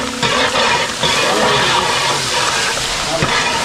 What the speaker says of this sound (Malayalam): ഇഞ്ചി പേസ്റ്റ് ഇട്ടിട്ട് ഉടനെ തന്നെ വെള്ളം ഒഴിക്കുകയാണ്.